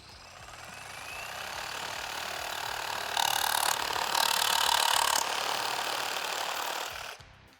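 A Milwaukee Sawzall reciprocating saw cuts through timber with screws in it. It gives a continuous buzzing motor drone that rises in strength as the cut goes through and then stops abruptly near the end, heard alone without speech.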